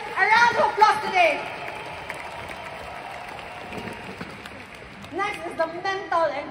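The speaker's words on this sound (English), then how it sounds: "Can we give our Freeway leaders a round of applause today?" Audience applause for Freeway leaders at a seminar, a steady wash of clapping from a crowd that lingers for several seconds, with a speaking voice over it at the start and again near the end.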